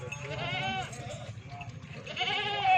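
A dairy goat said to give five litres of milk, at a goat sale, lets out wavering bleats close by, first one and then another, with someone talking over the animal noise.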